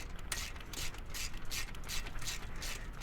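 A torque wrench works while tightening bolts during assembly of a VelociRAX MAX rack, giving a steady run of close, dense ratcheting clicks throughout.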